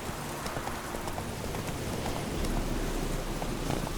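Roach the horse gallops in The Witcher 3, steady clip-clop hoofbeats running the whole way through over a continuous outdoor rumble, with no voices.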